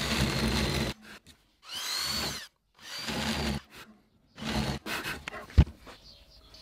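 Power drill boring a hole into a Harley Benton electric guitar body, with several loud bursts of whirring separated by short pauses and a brief sharp crack near the end.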